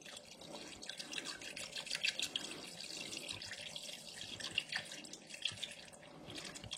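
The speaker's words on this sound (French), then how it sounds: "Je vais réégaliser avec de l'eau. Et voilà. Du coup je viens y rajouter de l'eau." Water poured into a cooking pot of hare civet stewed with wine lees, a steady close trickling and splashing stream with faint drips, and no talking.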